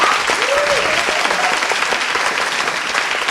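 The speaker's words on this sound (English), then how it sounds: "Can we give her a big round of applause again?" Audience applause for a panel guest at a post-show Q&A, a dense steady wash of clapping filling the room at full volume throughout, with a few faint voices calling out over it.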